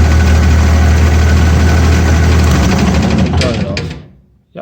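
A Vermeer BC1000X wood chipper engine runs loud and close at a heavy, steady idle, then shuts down and winds to silence with a short clunk at the end.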